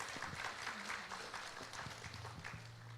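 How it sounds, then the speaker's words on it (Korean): A seated audience applauds after a presentation at a city council policy forum in Siheung, with steady, moderately loud clapping carrying on for several seconds. "다시 한번 큰 박수 부탁드리겠습니다"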